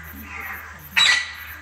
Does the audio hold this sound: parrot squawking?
yes